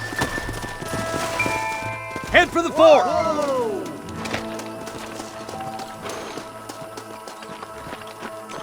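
Horses gallop in the Red Dead Redemption video game, rapid hoofbeats under a whinny and game music while someone speaks a short line.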